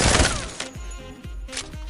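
Rapid gunfire bursts in Apex Legends, several sharp repeated shots with heavy booming low thumps roughly every half second, loud and close in game audio.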